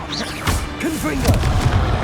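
Confringo fire spell blast from Hogwarts Legacy, a booming impact near the middle, followed by rumbling crashes amid busy spell-combat effects.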